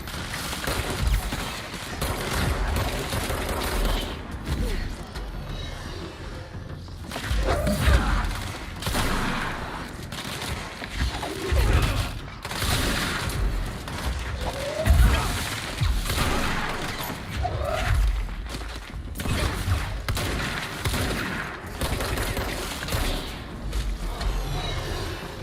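Weapons empty their magazines at enemy bikes in the video game Control: dense, sustained bursts of rapid gunfire with booming impacts and crashes, loud and continuous throughout.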